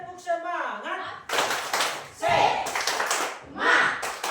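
A group claps in a quick, rhythmic pattern, several bursts of hands in unison, with voices chanting and talking between.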